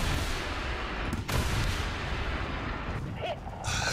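Missile fired at a T-80 tank in a combat video game, heard as a loud, dense blast with rumbling, crackling aftermath that stays up for the whole stretch, one sharp hit near the middle and a later burst of noise.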